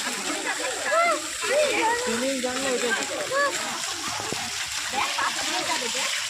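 Children splash and play in a swimming pool, with continuous sloshing water and a busy mix of young voices chattering and calling out over the splashes throughout.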